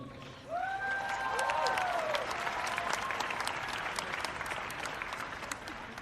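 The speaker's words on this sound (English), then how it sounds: "Therefore, applaud yourselves." An audience applauds in sustained, dense clapping that starts abruptly and carries on evenly, with a few whooping cheers rising over it near the start.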